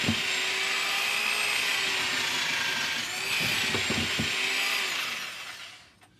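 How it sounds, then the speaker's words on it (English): An electric drill scrubbing rust out of holes in a Cat 60 cylinder head whirs continuously at high speed with a scraping, grinding edge, occasional knocks, then winds down to silence at the end. "with the drill I could run it in both directions"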